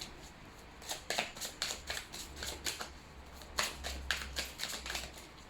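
A deck of oracle cards riffled and drawn by hand, a run of crisp papery flicks and snaps in quick irregular bursts, close and fairly quiet, with no talking.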